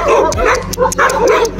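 A dog in a Nepali household gives short yips and bow-wow barks, several quick calls in a row near the listener, with a person talking faintly in the background.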